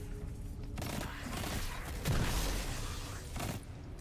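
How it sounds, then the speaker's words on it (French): Mines thrown and exploding in the Destiny 2 video game, a dense rolling series of muffled blasts and crackling bursts swelling through the middle and fading, set against steady game noise. "Ils me lancent des mines."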